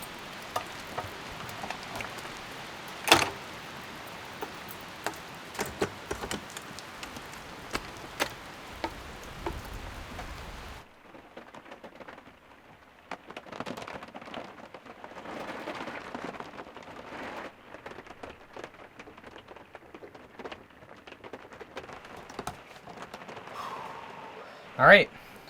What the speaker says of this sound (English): So it's raining right now, so I'm gonna get into the camper and get situated.